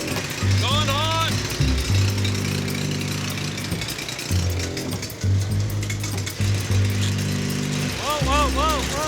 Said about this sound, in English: I'm gonna test on this wheel and get familiar with the welder